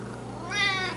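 A Siamese cat gives a single short meow close by, rising into a bright, nasal, tonal cry that lasts about half a second.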